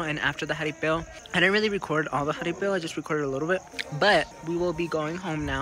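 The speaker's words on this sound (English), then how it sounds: "You could hear crickets right now" Crickets chirp steadily at night in the countryside of San Luis Potosí, Mexico, a thin continuous trill running beneath someone talking close to the microphone.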